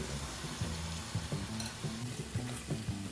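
Mutton roasts in a hot pan for Hassan-style mutton dry, sizzling and frying steadily. Intermittent scraping stir strokes sound close up, and no one talks.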